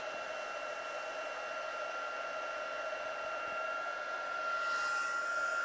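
A hair dryer or heat tool hums with a steady whirring drone as it dries a watercolour wash on paper, running continuously and fairly close, with a slight rise in airflow near the end.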